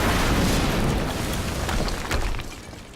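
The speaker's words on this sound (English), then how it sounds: "HQ, we just heard an explosion near the harvesting perimeter" An explosion in the video game Quantum Break booms loud and broad, then fades into a rumbling, crackling tail over a few seconds.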